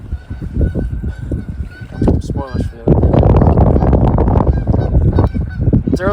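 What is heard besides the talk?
geese honking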